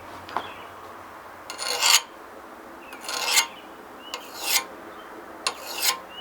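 A metal file glides over a hardened, heat-treated Damascus steel skinning knife blade in four separate strokes, each a bright scraping swell that rises and fades, with short pauses between them.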